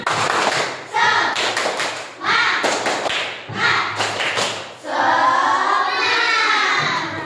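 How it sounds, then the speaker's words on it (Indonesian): Indonesian classroom of children doing a rhythmic 'tepuk semangat' clap chant, bursts of patterned hand claps alternating with group voices, fairly loud and close. "Kalau tidak, tepuk semangat."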